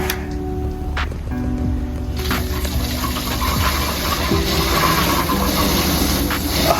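A DIY water chiller pump for a cold plunge ice bath switched on, sending water gushing and gurgling through hoses and a filter with a steady motor hum, close and continuous.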